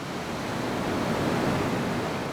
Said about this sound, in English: Particularly high waves of surf push water fountains up through holes in the rock.